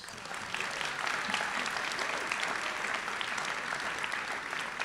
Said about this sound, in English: Would you give them a round of applause?